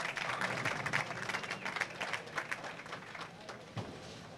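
A crowd at a PWBA bowling tournament in Sacramento applauds steadily, with a soft, dense patter of clapping that slowly thins out under faint commentary.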